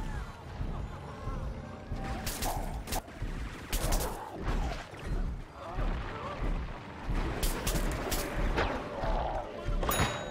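Scattered shots and impact cracks of gunfire in Plants vs. Zombies Garden Warfare 2 come in irregular bursts through a busy game soundscape. Some hits land loud and near, others fainter.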